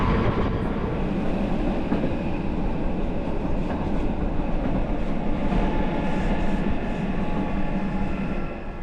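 A Swiss luxury passenger train runs on a single-track mountain railway, heard from inside as a steady, loud rumble of wheels and carriage noise with faint rhythmic clicks, continuous throughout.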